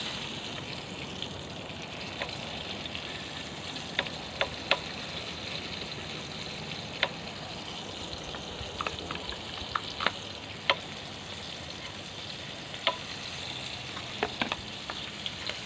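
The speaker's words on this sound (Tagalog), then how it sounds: "At saka iprito ko muna yung onion at saka garlic." Onion and garlic frying in a pan for a dried fish and tomato dish, a soft, steady sizzle with scattered crackles and pops, fairly quiet and close, with no talking.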